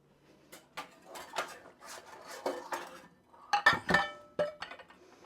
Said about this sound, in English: let's get rid of our dirty dishes